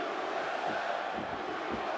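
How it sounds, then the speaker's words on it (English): Boston crowd at a UFC fight roars in a steady, distant wash of cheering and shouting, filling the whole stretch at an even level. "Boston crowd getting behind the American Jeremi Stevens."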